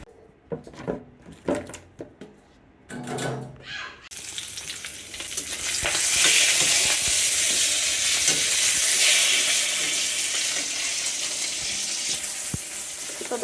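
Koi fish sizzling and frying loudly in a pan of hot oil, a steady crackling hiss that swells and holds after a few seconds of quieter kitchen clatter.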